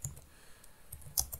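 Rapid keystrokes on a computer keyboard, typing a software library install command; a short burst of close, crisp clicks with no talking.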